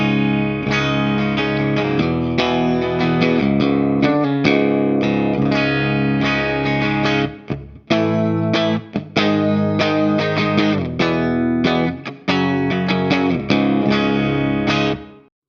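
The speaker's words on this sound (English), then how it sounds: "The first one is just called Pristine Clean, and to me that just means, this should be a pretty no-frills clean tone." An electric guitar plays through the ML Sound Lab Amped Oracle, an Orange amp capture, on its Pristine Clean preset with a touch of reverb. Loud, ringing chords and notes are struck in a steady rhythm with brief gaps, and no voice is heard.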